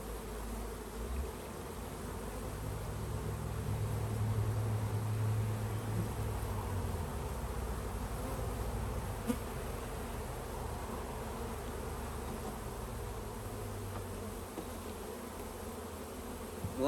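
A honeybee swarm caught in Michigan buzzes steadily at close range, a dense low hum that holds at a constant level throughout, with no voices.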